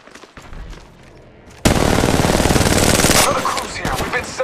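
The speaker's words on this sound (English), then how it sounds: "Enemy firing." Enemy gunfire in the mobile shooter Apex Legends Mobile: after quieter game noise, a loud sustained burst of rapid automatic fire bursts in and keeps hammering for seconds before tapering.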